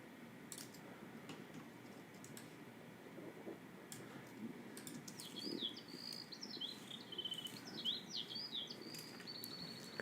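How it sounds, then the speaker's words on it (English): Birds chirping and calling faintly in the distance, a few quick twittering phrases in the second half over quiet ambience with soft ticks. "over here, I'm gonna do some bird calling"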